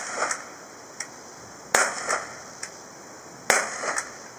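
A pellet pistol fires steel BBs at safety glasses, making a series of sharp, close cracks, each followed by a brief impact snap. The shots come at irregular intervals over a quiet background, with no talking.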